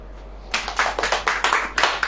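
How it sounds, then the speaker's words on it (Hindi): A sermon audience claps in a loose, sparse burst of separate hand claps that starts about a quarter of the way in and carries on unevenly to the end, moderately close, with no talk over it. "ताली बजाओ"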